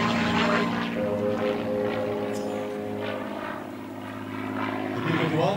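A P-51D Mustang propeller fighter at an air show flies a series of aileron rolls, its piston engine droning steadily and loudly throughout, with a slight dip and swell in level as it passes.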